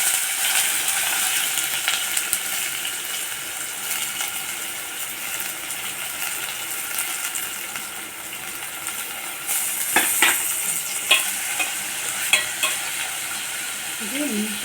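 Onions sautéing in cooking oil with cinnamon, cloves and fennel seeds for pepper chicken gravy, a steady broadband sizzle with scraping stir strokes and a few louder clanks of the spoon in the later seconds.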